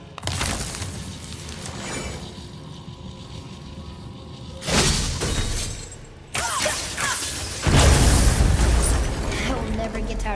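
In the game God of War, a weapon strikes and shatters objects, making a few loud, crashing bursts with debris and a boomy rumble, spaced several seconds apart over a quieter background.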